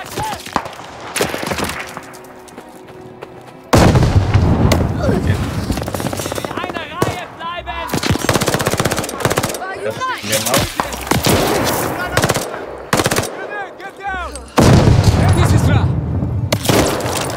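Loud bursts of rapid gunfire and booming cannon blasts in the video game Call of Duty: Vanguard come in dense waves, with brief quieter gaps between volleys and a voice shouting over the barrage.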